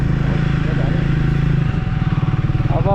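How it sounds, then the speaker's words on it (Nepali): A motorcycle engine labours in first gear on a steep uphill road near Tokha, a loud, close, throbbing drone whose pulsing grows heavier toward the end as the rider speaks over it. "अब बाइक कराउनु थाल्यो"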